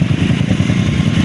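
A motorcycle engine drones steadily on a road, running close and loud with an even, rough, buzzing hum and no breaks.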